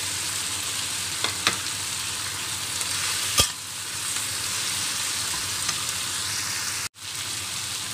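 Moringa pods frying with cooked tomatoes in a pan give a steady, even sizzle, broken by a sharp knock in the middle and a brief dropout near the end.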